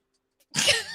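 A single short, sharp sneeze bursting out suddenly after near silence, close and fairly loud, with a brief breathy tail.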